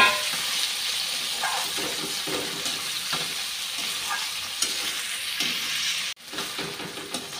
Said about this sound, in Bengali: এখন পেঁয়াজ কাঁচা লঙ্কাটা দিয়ে দিচ্ছি।